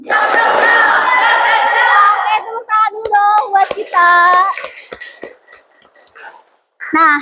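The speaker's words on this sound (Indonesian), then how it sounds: "tepuk tangan dulu dong buat kita" Children in a classroom clap their hands amid loud group shouting and chanting, with sharp, scattered claps punctuating the voices before a brief lull and one final burst.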